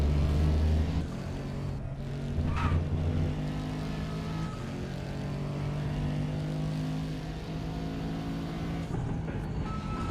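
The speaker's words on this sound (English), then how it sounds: "you can also hear him short shifting a bit" Race car engine in a racing sim at Circuit Zolder, droning steadily with harmonic tones that step up and down as the driver short shifts through the gears, continuous and close with no talk.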